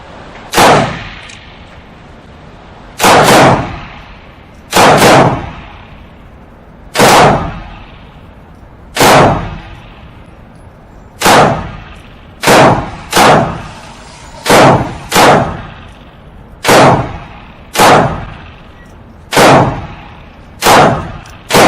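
.22LR handguns fired at an outdoor range, a loud series of about fourteen sharp shots, irregularly spaced a second or two apart, each with a brief ringing decay, no voices.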